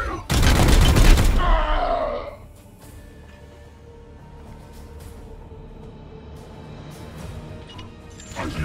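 A loud, dense burst of gunfire in the turn-based game Chaos Gate: Daemonhunters, lasting about two seconds, then fading into a low ambient hum with faint scattered effects.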